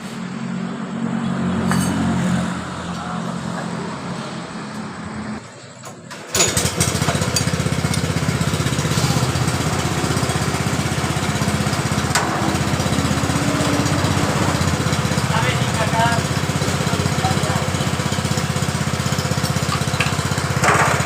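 A Honda Astrea motorcycle engine revs loud and harsh under throttle, a rough continuous roar with a quieter idle stretch early on before a sharp jump in volume that holds steady to the end.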